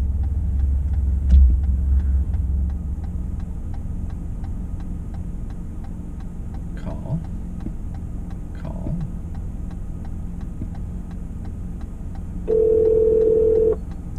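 A phone call rings out through a car's speakers while an Uber Eats delivery driver tries to reach a customer: a steady electronic ring tone near the end over a constant low cabin hum with faint ticking.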